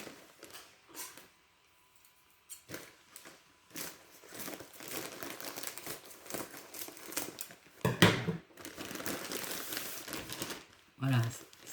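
Crinkly Magic Village craft paper, a one-square-metre pack, being unwrapped and handled at close range, with rustling and crackling bursts that swell in the second half and a few sharper crumples near the end.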